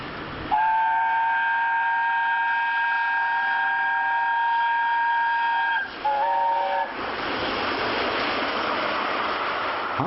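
A steam whistle blows a long sustained tone, then a shorter two-note blast, followed by the steady rushing roar of a passing train.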